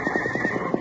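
A horse whinnies in a 1948 western radio drama, a close, loud neigh with a pulsing, quavering rhythm that lasts under a second over a steady background hum.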